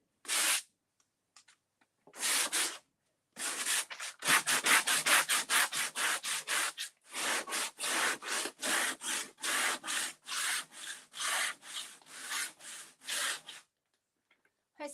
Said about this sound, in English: So I'm pretty relaxed on how much I use the sandpaper in here.